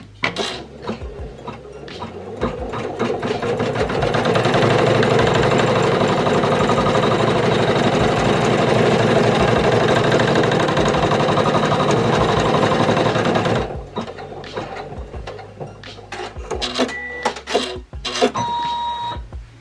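A single-needle embroidery machine stitches an in-the-hoop felt key fob, buzzing loudly and steadily for about eleven seconds. It then stops, followed by scattered clicks and handling knocks.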